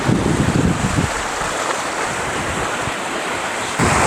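Sea waves wash against the rocks below a wooden pier at a seaside viewpoint in Chanthaburi, a steady close surf rush with wind buffeting the microphone and a heavier surge at the start and end.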